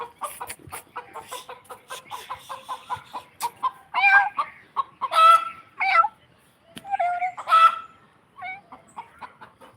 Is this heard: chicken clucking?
yes